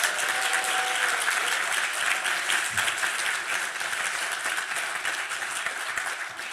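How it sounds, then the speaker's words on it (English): Dense, even applause from a dinner audience at a bar association installation and awards event, steady throughout and tapering slightly near the end, with no talking over it. "You may now applaud."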